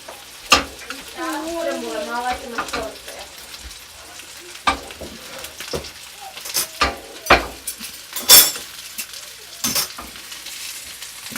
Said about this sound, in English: tilt it around so that the butter spreads everywhere. Look at it while you're doing it, and you see the butter, it goes around all the fish